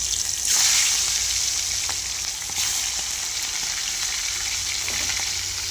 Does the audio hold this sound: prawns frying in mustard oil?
yes